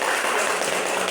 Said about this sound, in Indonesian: Mari kita berikan aplaus buat kelompok